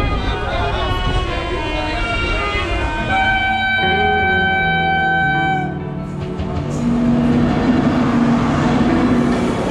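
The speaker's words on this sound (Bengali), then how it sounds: "শহরের বহুতলকে ছাড়িয়ে সবুজ মাঠের মধ্য দিয়ে ছুটে চলল আমাদের ট্রেন" Ganadevata Express train running through green fields, with a continuous rolling rumble and rattle heard from inside the carriage. Strong steady tones and music-like harmonics sit over the noise throughout.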